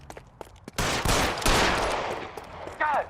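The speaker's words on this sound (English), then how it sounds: "Sabo, stop or I will shoot!" A burst of gunfire in the video game L.A. Noire, a loud rapid volley of shots lasting around two seconds, with scattered faint sounds before it and a brief voice at the end.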